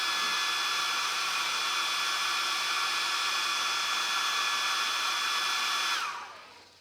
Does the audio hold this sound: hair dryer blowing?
yes